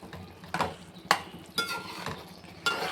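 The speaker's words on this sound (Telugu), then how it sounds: "దీన్ని కొంచెం నిదానంగా ఇలా కలుపుకుందాం." Bread halwa with cardamom powder stirred slowly in a pan, a few distinct spoon scrapes and clinks against the metal at irregular intervals over a low kitchen background.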